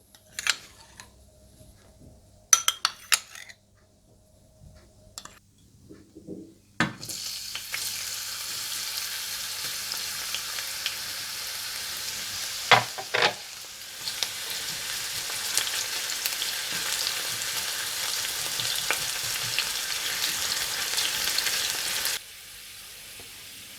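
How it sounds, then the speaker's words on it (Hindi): Onions fry in hot ghee for a dal tadka, a few light clinks and taps giving way to a dense, steady sizzle that runs strongly for a long stretch before cutting off. "घी गरम करें और इसमें प्याज डालकर हल्के गोल्डन ब्राउन कर लें।"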